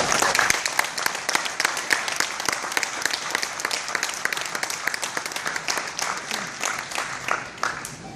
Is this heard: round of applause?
yes